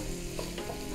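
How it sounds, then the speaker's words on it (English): Onion and sliced white mushrooms sautéing in a pan for beef stroganoff, a close, steady sizzle with soft stirring scrapes running through the whole brief moment. "We're gonna let those saute for a little bit"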